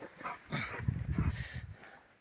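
A dog on a farm, near a tractor and plough being washed at season's end, lets out several soft whimpers and whines in a short run, close by, with no talk over them.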